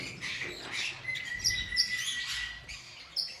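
Gouldian finches, including a lutino pair with a white-chested female and a red-headed male, chirp in a pet shop, giving scattered high thin tweets over a soft background rustle, close and fairly quiet.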